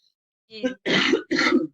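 A throat clear followed by two harsh, close coughs in quick succession, loud against silence.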